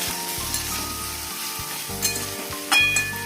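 Ginger and mixed vegetables fry in a pan with a steady, close sizzle, while a faint tonal hum runs underneath and a few light clinks rise toward the end.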